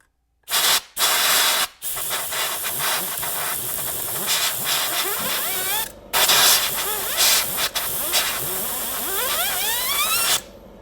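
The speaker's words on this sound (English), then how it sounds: "I just test it with some air." Bursts of compressed air hiss sharply through a chainsaw bearing, whirring as it spins up and down in rising and falling whines between blasts, close and loud.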